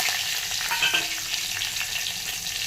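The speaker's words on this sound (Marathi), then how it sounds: "मोहरी जिरे आपल्याला खोबऱ्याच्या चटणीला तडका द्यायचा आहे" Mustard seeds and cumin crackle and sizzle in hot oil as a tempering for coconut chutney, a steady close hiss with scattered pops throughout.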